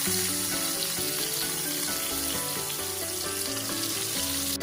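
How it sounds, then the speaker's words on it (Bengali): Katla fish pieces frying in oil, being turned so both sides brown, with a steady dense sizzle and crackle close by and no voices. "উল্টে পাল্টে দুদিকটা খুব ভালো করে আমি ভেজে নিচ্ছি।"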